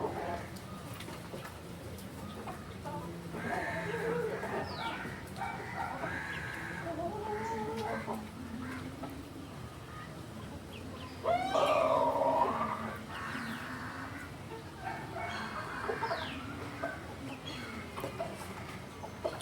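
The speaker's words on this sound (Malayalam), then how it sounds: "വീട്ടിലെ കോഴിയും പിന്നെ കാക്കയൊക്കെ കരയുന്ന സൗണ്ടൊക്കെ തന്നെ" Domestic chickens cluck and squawk intermittently, with a louder flurry midway, over steady background noise and occasional talk.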